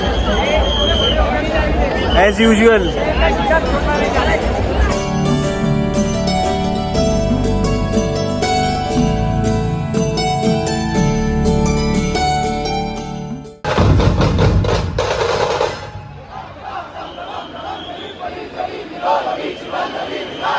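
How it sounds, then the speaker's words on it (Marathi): A dense crowd packs a Gudi Padwa procession, its loud babble of voices mixed with music and chanting throughout, with people talking close by. "गर्दी बघा किती आहे इकडे"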